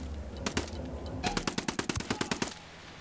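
Automatic gunfire in Ghost Recon Wildlands, a couple of quick shots, then a rapid burst of about a dozen rounds over game ambience; no talk.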